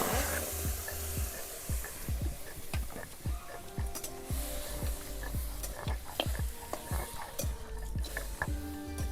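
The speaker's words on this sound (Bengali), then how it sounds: "এবার আমি কড়াইতে মাংস মাখানোটা দিয়ে দেব।" Marinated goat meat sizzles steadily in a dry wok with no oil, with a broad frying hiss and repeated scraping stir strokes from a utensil running throughout.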